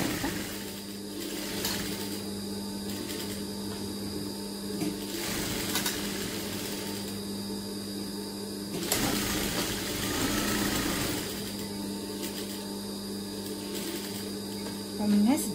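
A sewing machine stitches a seam on a quilt that folds into a pillow. Its steady, close mechanical whir runs almost continuously with slight surges, and a voice talks over it.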